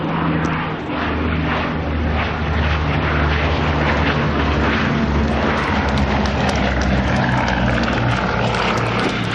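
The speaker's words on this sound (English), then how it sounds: "The Bristol Blenheim 1F." A Bristol Blenheim 1F at an air show, its propeller engines giving a loud, sustained droning roar that stays close and strong the whole time.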